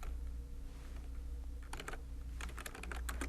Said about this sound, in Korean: 직접 타이핑 쳐주세요